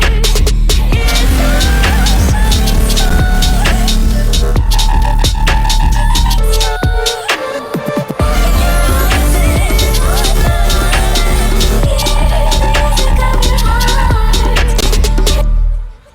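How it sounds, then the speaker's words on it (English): Dense bass-heavy electronic music track pushed through a clipper, its low end thick and gritty with saturated distortion, playing loud and continuous before briefly thinning out and then cutting off abruptly at the end. "When using the clipper on the basses, you can really hear the distortion it adds"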